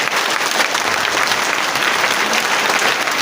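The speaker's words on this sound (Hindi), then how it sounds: "एक बार जोरदार ताली बजा करके बता देंगे" Loud, dense applause from an audience at a direct-selling seminar, a continuous roar of clapping with no break.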